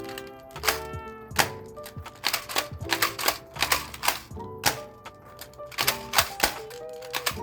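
An Adventure Force Aeon Pro dart blaster being primed and fired repeatedly, a quick run of sharp mechanical clacks and thunks in an irregular rhythm, close and fairly loud with no talking.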